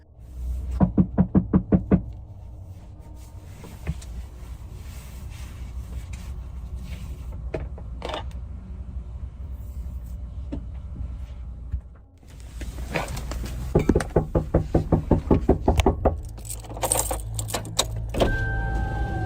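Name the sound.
someone knocking on a parked van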